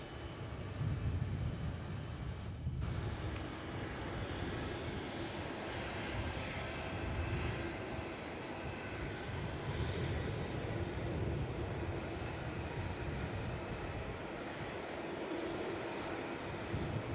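An airliner on arrival into Melbourne Airport from Perth, its engines giving a steady broad roar that holds at moderate distance for the whole stretch.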